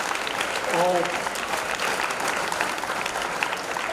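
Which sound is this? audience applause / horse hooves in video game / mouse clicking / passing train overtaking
audience applause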